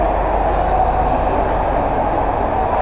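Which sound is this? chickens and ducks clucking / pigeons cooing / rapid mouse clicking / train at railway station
train at railway station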